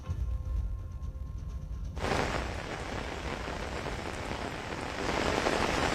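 Heavy rain pours down in Bengaluru, a steady dense hiss of rainfall that swells sharply about two seconds in and stays loud and continuous to the end, with no voices.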